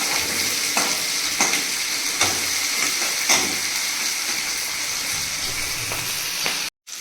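Potatoes with a pinch of salt fry in a pan for mutton kosha, a steady loud sizzle with periodic scraping stir strokes throughout, cutting out briefly near the end.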